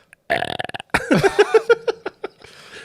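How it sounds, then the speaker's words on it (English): A person forces a pseudo burp, a short series of close, croaking throat pulses followed by a drawn-out gurgling belch that fades. "pseudo burp"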